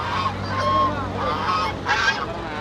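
Geese honk repeatedly in a busy riverside poultry market on the bank of the Turag, where ducks and chickens are also being sold; the calls come in loose bursts over steady crowd murmur.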